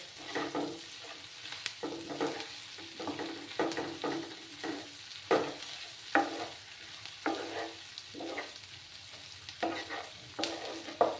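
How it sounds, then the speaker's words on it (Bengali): Ginger garlic paste frying in a pan gives a quiet sizzle broken by a regular rhythm of spatula strokes, roughly one scrape every second, close by. "এবার আমি এই যে 1 চামচ আদা আর রসুন পেস্টটাও দিয়ে দিলাম। একসঙ্গে ভাজা হয়ে যাবে।"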